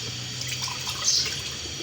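Water pours steadily from a glass into a pot for a cornflour and falooda sherbet, a continuous splashing stream with a brief louder swell midway, close and alone.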